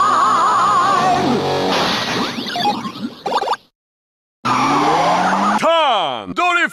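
Kamen Rider Ex-Aid transformation toy playing a loud, close tire-squeal drift effect: a long screeching skid with engine roar, a brief silence, then more squeals with swooping electronic tones.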